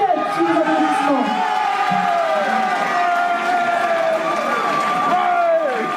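A crowd at a Miss and Mister pageant cheers and whoops as a contestant is announced, with scattered clapping under sustained shouts and excited voices across the hall.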